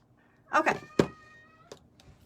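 A house cat meows a few times close by indoors, two quick calls followed by a sharper, louder one and a softer trailing mew, with quiet room sound between.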